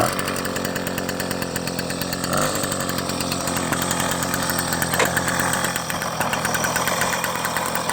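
The engine of a Motobécane 50 V moped runs loud and close with a rapid, steady, raspy two-stroke putter and small fluctuations in speed.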